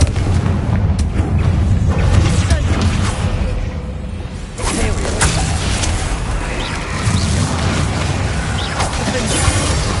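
A Confringo blasting spell explodes in Hogwarts Legacy, heard as dense, heavy booming blasts and rumbling game combat that stay loud and continuous, with a brief dip partway through.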